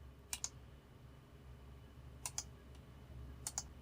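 Computer mouse clicking during word-processor editing, three evenly spaced pairs of crisp, close double clicks over a quiet room hum.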